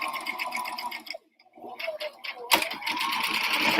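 Sewing machine stitching fabric for an apron, bursts of close mechanical whirring broken by a short pause near the middle, with a voice talking over it.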